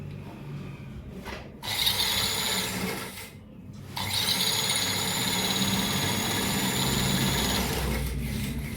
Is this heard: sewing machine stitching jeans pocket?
yes